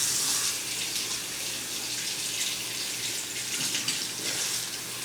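Tap water pours steadily over dyed leaves being rinsed, a continuous close hiss of running water with no pauses.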